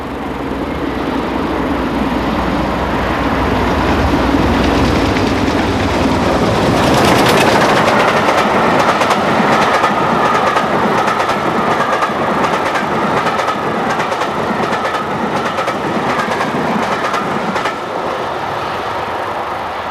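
A steam locomotive, 46203 Duchess, hauls a heavy train past close by near Llandudno, wheels clattering rhythmically over the rails with a loud, continuous roar that eases slightly near the end.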